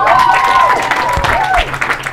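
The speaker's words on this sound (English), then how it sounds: "give a strong round of applause for the first Somali policewoman" Audience at a Somali community youth day event in St Paul clapping and cheering in a steady, dense burst, with whistle-like tones and voices mixed into the crowd noise throughout.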